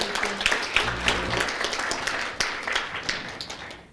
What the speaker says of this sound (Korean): 다시 한번 열강해 주신 원장님께 큰 박수 부탁드립니다